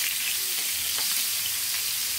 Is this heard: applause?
no